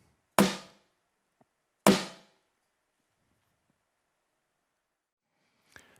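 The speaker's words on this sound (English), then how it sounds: "and you can dampen it as much as you want." Two short, dampened snare hits from a Yamaha DTX-PRO electronic drum module with muffling applied sound about a second and a half apart with quick, dry decays, then a faint light tap after a pause.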